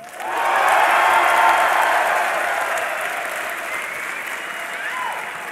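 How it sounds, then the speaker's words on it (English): Esports crowd at a DreamHack League of Legends finals between CLG.EU and Fnatic, roaring with cheers and applause that swell loudly and then hold steady in a dense, continuous wash. "I want to hear a cheer if you think Fnatic is going to be grand final winners."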